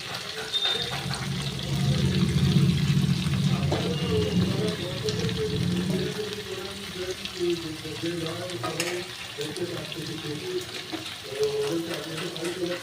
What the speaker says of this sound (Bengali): এবার আমি ছোলার শাক দিয়ে দিচ্ছি।